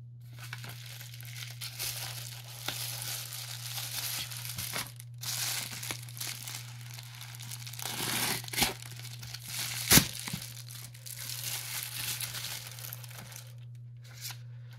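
Birthday card envelopes being torn open, with close paper tearing and crinkling that runs in bursts over about fifteen seconds over a constant low hum, plus one sharp rip near the middle.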